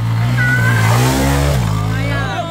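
A car engine revs hard and accelerates on a dirt track, a loud, close, sustained roar with rising and falling pitch while people shout excitedly over it.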